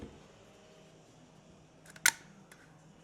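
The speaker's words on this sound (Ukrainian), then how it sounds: "відтягуємо верхню частину затвору" A quiet room, then a brief mechanical clack as the upper part of an M4 CM507 airsoft rifle's bolt is pulled back, followed by a faint click.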